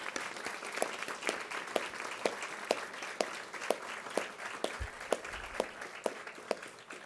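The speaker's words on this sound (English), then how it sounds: "Let's give them some applause." Audience applause fills a room at a ceremony announcing a $480,000 state grant to Daemen, a dense steady patter with one nearby clapper beating a sharp regular rhythm throughout.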